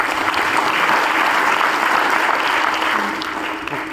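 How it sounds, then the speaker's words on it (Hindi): Loud, dense clapping from an audience applauding a guest at a seminar-style gathering, a steady wash of hands that holds strong before tapering slightly at the end, with no talk over it. "चलो सर के लिए जोरदार ताली बजा रहा।"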